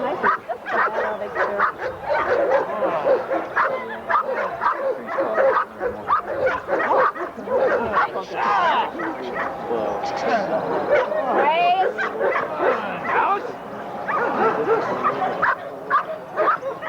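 A young dog in training barks, yips and whimpers almost constantly, close and loud, with people talking over it throughout.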